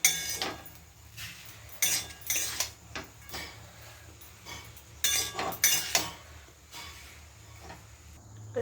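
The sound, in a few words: stirring chow mein with masala in a pan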